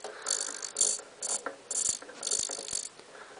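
A small servo motor lowers the pick-up reel on a John Deere 990 baler, giving several short whirring, ratcheting bursts close by and fairly quiet, separated by brief pauses.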